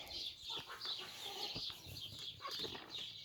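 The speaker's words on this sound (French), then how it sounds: "Ça, c'est une très vieille poule, ça." A very old hen, three or four years old, clucks softly in the evening at close range, with feather rustling and low background noise and no speech.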